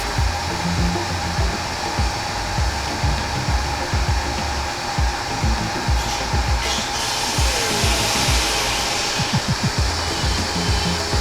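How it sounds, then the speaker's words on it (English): A Blichmann Riptide brewing pump runs about a foot away with a loud, steady whirring drone, rough rattling and irregular low gurgling bursts as it begins to cavitate. "This is the Riptide pump from about 1 foot away."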